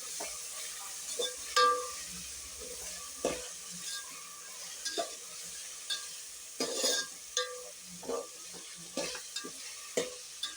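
Tomatoes cook in a sizzling pan for chicken biryani, with a soft continuous frying hiss and repeated scraping stirs of a spoon against the pan at irregular intervals, close and alone without talk.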